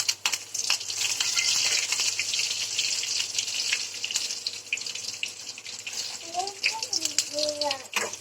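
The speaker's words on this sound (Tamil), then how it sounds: "லைட்டாக கிண்டி விட்டுக்கலாம்." Red chillies, garlic and curry leaves crackle loudly in hot oil as they are stirred, with a dense sizzle and a few faint sounds of water and of talking toward the end.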